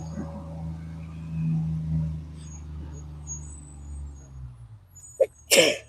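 A low vehicle rumble drones, then a short sharp intake leads into one abrupt, forceful sneeze near the end.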